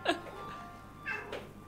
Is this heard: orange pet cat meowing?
yes